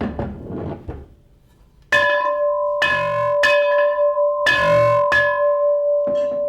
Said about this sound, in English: Ring that bell over there